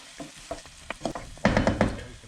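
A wooden spoon stirs cooked potatoes and spinach through a hot pan for saag aloo, giving soft scraping strokes and a low sizzle that build into a busier flurry of close stirring toward the end.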